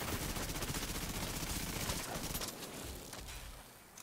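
Sustained rapid gunfire from a Division 2 Skirmish PvP match, a dense, continuous rattle of shots filling the whole stretch before thinning slightly at the end.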